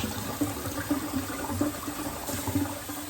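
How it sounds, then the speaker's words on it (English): Tap water runs steadily into a container to soak potatoes in cold water for a brown stew chicken meal, a continuous splashing gush with small bubbling bursts, close and moderately loud. "So I'm just gonna make these soak in some cold water."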